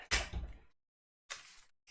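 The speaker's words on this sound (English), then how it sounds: "Cameron, shut the door, please." A door is pushed shut indoors, giving a near rushing slide and thud, then a second shorter bump, with silence between.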